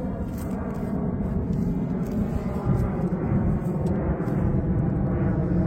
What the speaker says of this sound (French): Et oui, il y a un aéroport à Pise, vous entendez les avions.